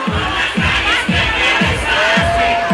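A crowd at an outdoor festival concert cheers and claps over a pounding, steady kick-drum beat from the band, loud and continuous with shouts rising above the music.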